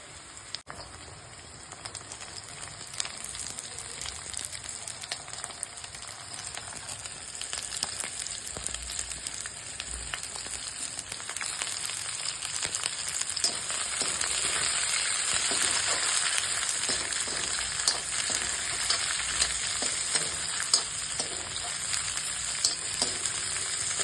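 Mixed vegetables are stir-fried over sautéed onion for veg hakka noodles, a dense continuous hiss and sizzle close by that builds slightly louder over about twenty-four seconds, with faint scattered crackles and no voices.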